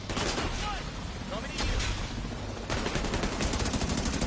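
Sustained automated turret fire in The Division 2, a dense run of rapid, loud shots that carries through the whole stretch with almost no break and grows harsher near the end.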